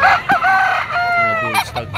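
Bull stag roosters at a Batangas auction market crow loudly and close, one long cock-a-doodle-doo following shorter clucking calls, over a murmuring market background.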